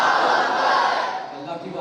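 A big congregation at a religious Quran celebration gathering shouts the Nara-e-Takbeer response together, a loud unified roar held for nearly two seconds and tapering off.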